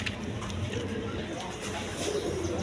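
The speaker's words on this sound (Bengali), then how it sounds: "এইখানে একটা ডেনিশের নর কবুতর আছে" A male Danish pigeon with three red bars and a thick beak coos in low soft murmurs, mixed with other pigeons nearby. Faint voices sit in the background.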